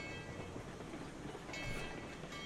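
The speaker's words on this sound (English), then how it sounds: "We're riding the short train." Train rolling along rails in the Railroads Online game, a short train carrying gold mine supplies; a steady, dense rumble with a faint rhythmic clatter continues unbroken throughout, growing slightly brighter toward the end.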